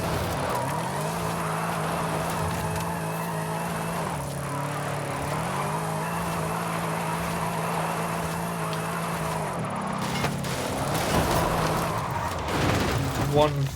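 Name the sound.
Exorcist car spinning out in video game Forza Horizon 5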